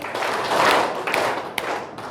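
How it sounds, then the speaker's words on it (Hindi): Hand clapping from a group of people at a job skills training session, a scattered spread of claps lasting a couple of seconds, moderately loud and close. "फिर वापस ताली बजाइए"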